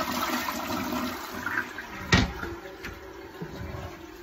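A toilet flushes after dirty water from a Rug Doctor carpet cleaner tank is dumped into it, a close rushing swirl of water with a sharp surge near the middle, alone without talk.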